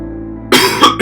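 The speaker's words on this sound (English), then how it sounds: "that's my incessant cough" A single sharp human cough, close and loud, following a quieter steady hum with faint tones, then a brief second cough burst at the end.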